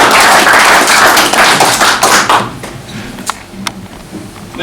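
An audience at a cheque presentation for Saint Francis Hospice claps in thanks: loud, dense applause for about two seconds, then thinning into a few scattered claps and taps.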